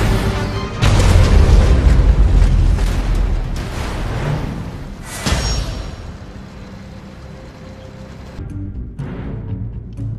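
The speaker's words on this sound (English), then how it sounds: "Nuclear missile launched." A nuclear missile detonates in the strategy game C&C: Rivals, a loud, deep booming blast that swells quickly, rumbles heavily for several seconds and then slowly fades into a lingering low roar.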